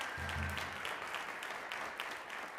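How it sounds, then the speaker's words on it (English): Jazz concert audience applauds a trombone player, a steady wash of clapping throughout with a brief voice or tone near the start. "Round of applause for him."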